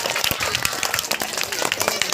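An audience at a village school function claps for a children's dance. The applause is brisk and scattered and mixed with crowd noise and voices.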